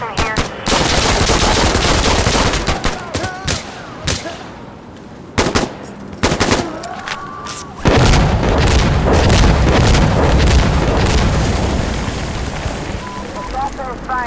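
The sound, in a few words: gunfire in Sandstorm video game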